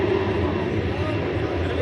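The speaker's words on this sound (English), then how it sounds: "American Airlines Airbus A321 is now rolling down 18 left." An American Airlines Airbus A321 rolling down runway 18 left at Dallas Fort Worth airport, a constant dense engine roar with no break over the short stretch.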